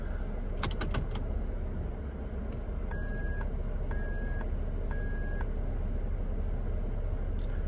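Three evenly spaced electronic warning beeps from inside a 2023 Toyota Tundra SR5 TRD Off-Road pickup, clear and moderately loud over a low engine rumble, with a few faint clicks earlier.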